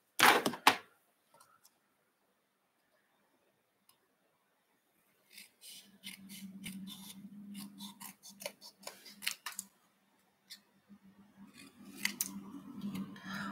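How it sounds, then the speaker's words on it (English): Metal snips cut through white card stock, giving a sharp opening snap and then a steady series of close, crisp cutting clicks and rustles as the blades work along the card. "We can just cut that out with snips."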